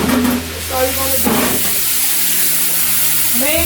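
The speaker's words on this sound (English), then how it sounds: "Add a little bit of water. And let them steam." Onions steam in a pan with a little added water, a continuous loud hiss and sizzle close by, with brief talk near the start.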